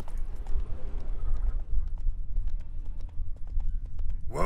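Roach, the horse in The Witcher 3, clip-clops along with steady rhythmic hoofbeats, close and moderately loud, which slow toward the end as the ride settles.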